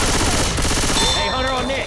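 Rapid automatic gunfire from a Left 4 Dead 2 tournament match, a dense unbroken rattle of shots running the whole time, with a few voices shouting faintly over it near the end.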